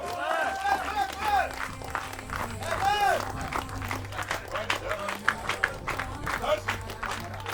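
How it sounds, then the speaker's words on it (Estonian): A crowd at the 2022 Estonian log press strongman championship claps steadily while an announcer talks loudly over the applause. "Rahvas! Kõik plaksutame."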